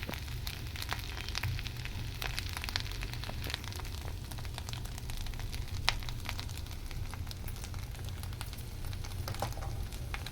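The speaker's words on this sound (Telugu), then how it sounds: "ఇంకా సిమ్లో పెట్టి ఫ్రై చేయాలండి," A sweet made from fresh coconut and jaggery fries in a pan over a low flame, giving a steady, soft sizzle with faint crackles and pops. There is no talking.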